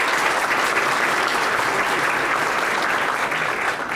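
Audience clapping at a chamber of commerce annual meeting, a dense, sustained burst of applause from a crowd in an indoor hall, steady and loud throughout.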